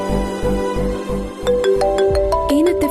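An electronic phone ringtone plays loudly and alone, with low pulsing beats giving way to bright, stepping melodic notes that rise toward the end.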